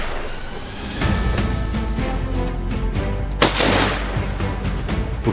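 Rapid gunfire from hunters shooting wild boars at dusk, a dense, loud barrage of overlapping shots and booms with one sharper crack midway, continuous throughout.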